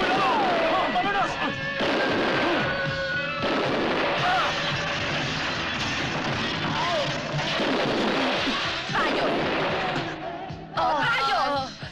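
Gunfire in a film shootout, repeated shots and bursts crackling loudly throughout while people shout in Spanish over the chaos.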